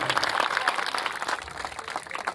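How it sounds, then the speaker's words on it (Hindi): An outdoor crowd at a ward-level anti-drug awareness gathering claps in a brief, fairly faint burst of dense applause, with a murmur of voices underneath. "जोरदार ताली है, ऐसे आवाज निकलनी चाहिए कि पूरा खेत गूंज जाए।"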